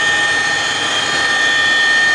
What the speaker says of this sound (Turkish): Helikopterin AVM binasının önüne inişi ise yüzlerce müşteri ve mağaza çalışanın ilgisiyle karşılandı.